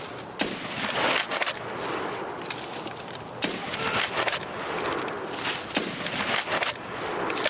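Repeated bursts of gunfire in the video game Escape from Tarkov crack out in quick volleys at close range, separated by short gaps, with no talking.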